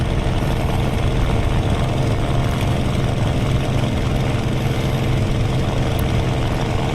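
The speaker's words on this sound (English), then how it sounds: "My engine's gonna crap out soon." A combat aircraft's engine in the Aces of Thunder flight game drones steadily and loudly, a constant unbroken hum with no change in pitch or level and no voices over it.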